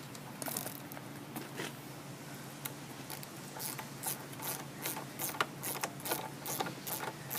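Wrenches ratchet and click as bolts are tightened, a quiet string of repeated metallic clicks over a low background hum with no talking.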